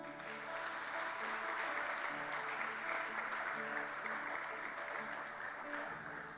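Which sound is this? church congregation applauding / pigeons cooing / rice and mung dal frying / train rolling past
church congregation applauding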